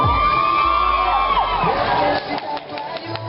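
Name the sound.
crowd cheering and shouting at a beauty contest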